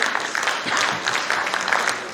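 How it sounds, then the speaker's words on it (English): At an Inter-Religious Council of Uganda consultative assembly, the audience applauds a speaker with a fairly loud, dense, continuous patter of many hands clapping at once. "Can we give him another applause for that?"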